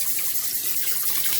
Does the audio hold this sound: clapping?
no